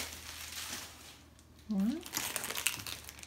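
Close crinkling and rustling of sticky-edged plastic packaging being handled while unboxing a Cricut Explore Air 2 cutting machine, with a brief voiced sound partway through.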